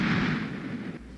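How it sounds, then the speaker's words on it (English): A single deep, rumbling blast from two barges exploding on the Mobile River rolls on for about a second, heavy and booming, then cuts off abruptly. "when 2 barges exploded in the Mobile River"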